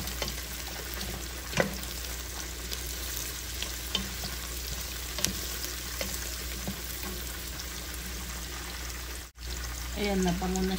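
Small smoked tinapa fish fry with garlic in a pan, a steady close sizzle stirred now and then with scraping knocks, while a voice talks intermittently over the cooking.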